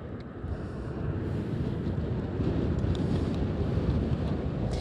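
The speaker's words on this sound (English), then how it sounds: "It's very windy." Strong, steady wind buffets the microphone at the Anchorage airport runway, a continuous loud roar with no letup and no voices.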